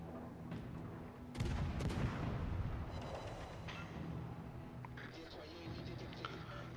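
Naval gunfire in a warship video game, one heavy boom followed by rumbling blasts and scattered impacts, with someone commentating over the top throughout.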